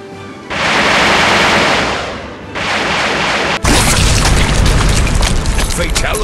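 Fatality finishing move in the Bowmasters video game, loud booming impact and crash effects in a dense burst, a sudden slam, then sustained crackling noise, with a game voice over the effects.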